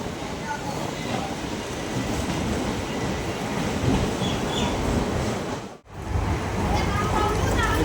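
A DEMU passenger train on the Malda Court to Siliguri run rolls into Kishanganj station, giving a steady close rumble of wheels and carriage noise with a brief dip partway through.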